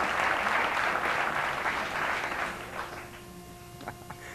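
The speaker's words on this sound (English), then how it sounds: "They clapped for that." Studio audience at the 1989 game show Remote Control breaks into a burst of applause, loud at first and then thinning out and fading to scattered claps within a few seconds.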